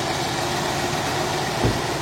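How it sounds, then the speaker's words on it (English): A car engine idling after a tune-up, a steady low rumble with even vibration throughout and one brief louder thump near the end, heard from close by without talk. "Then next you just start the car up. Step outside. See how the engine runs."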